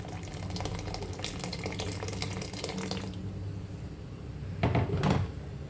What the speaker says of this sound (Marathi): आणि आपल्याला त्याच्यामध्ये थोडंसं गरम पाणी टाकायचं आहे.